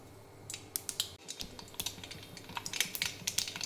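Mustard seeds crackle and pop in hot oil in a kadai, a rapid, irregular run of sharp close snaps and spits against a low background hum.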